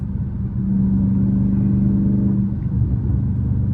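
A Scat Pack car's engine rumbles deep and steady on a late-night drive, a loud, constant low drone with a slight swell partway through and no voices.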